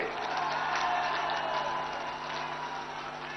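A large crowd at a political rally in Odisha applauds and cheers, a dense, steady wash of clapping and voices that stays loud throughout.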